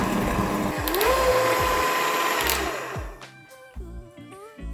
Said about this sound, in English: let's give everything a quick whisk up with our hand mixer for about 30 seconds